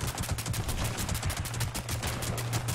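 A Two Shot Explosive Handmade Rifle in the video game Fallout 76 fires on full auto, giving a fast and steady stream of loud, punchy shots that runs without a break.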